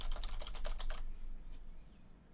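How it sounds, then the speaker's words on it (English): Rapid keystrokes on a computer keyboard while working in the Godot game engine editor, a dense clattering burst lasting about a second, then near quiet with a few faint clicks. "So if I just start like typing away"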